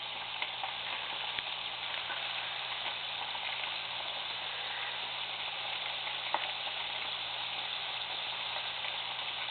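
French fries frying in hot oil, a steady dense sizzle and bubbling that holds evenly throughout with occasional faint clicks, close and continuous with no voices.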